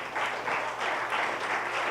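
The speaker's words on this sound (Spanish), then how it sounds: "Démosle un aplauso al Señor." Church congregation applauding in praise during a sermon, a soft, distant swell of clapping that rises and falls in gentle waves, faint and continuous.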